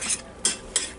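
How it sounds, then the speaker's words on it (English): A utensil stirs a slime mixture with shaving cream in a bowl, giving three brief scraping swishes, close and fairly soft, with no voices. "I'll start stirring it."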